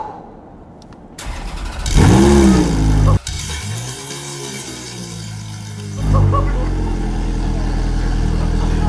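A Ferrari F430 Scuderia with a straight-pipe Capristo exhaust fires up and revs hard, a loud rising growl with a brief cut, then settling into a deep, rumbling idle close by.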